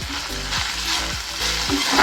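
Coriander leaves and curry leaves frying in hot oil in a pan, a steady close sizzle with repeated stirring scrapes every half second or so, no voices.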